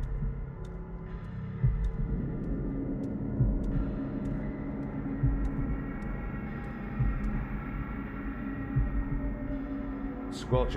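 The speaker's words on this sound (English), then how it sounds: "I hear a heartbeat." A heartbeat in the horror video game The Bridge Curse: Road to Salvation thumps steadily and dully under a low ambient hum, a slow regular throb repeating throughout with faint clicks above.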